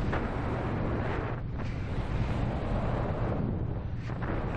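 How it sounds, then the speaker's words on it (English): Wind rushes past steadily during a motor-out descent on a Darkhorse 450, a loud continuous roar with slight surges and no engine sound. "Kind of quiet, listen to the wind, burning off some altitude"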